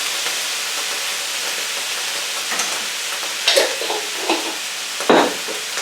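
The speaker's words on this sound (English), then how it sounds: "Give it a quick stir." Broccoli and garlic frying in a pan give a steady close sizzle, broken by a few scraping stirs near the end.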